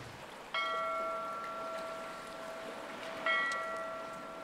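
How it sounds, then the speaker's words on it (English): A bell rings twice, each clear metallic strike blooming into a long ringing tone that fades slowly over a soft background hiss, the second strike following about three seconds after the first. "Ring that bell."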